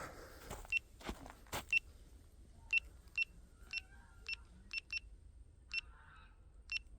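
A device locator repeats a short electronic beep at fairly regular intervals, thin and high, over a quiet low background hum with a few soft knocks at the start.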